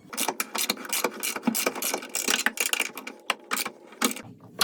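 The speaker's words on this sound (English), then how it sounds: "I got 2 to take off, well, 4 nuts to loosen up." Nuts being loosened with a ratchet on the rail of a Harmar chair lift, giving rapid, close clicking and metallic rattling in quick bursts with no talk.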